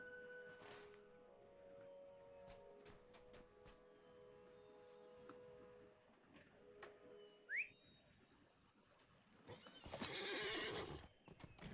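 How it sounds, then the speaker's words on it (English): A video game horse whinnies near the start and gallops with clip-clop hooves, broken by short whistles and a brief rising call. A louder burst of hoofbeats swells toward the end. "That's my regular horse."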